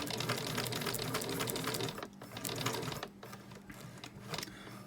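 A sewing machine stitches in reverse across a fabric edge, a steady rapid mechanical chatter of needle strokes that pauses briefly twice, close and fairly quiet, with no talking.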